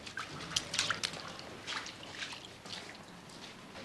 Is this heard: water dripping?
yes